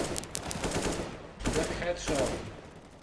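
Bursts of gunfire from a CSGO firefight, several sharp shots early and more around the middle, fairly loud over busy game noise with a voice faintly underneath.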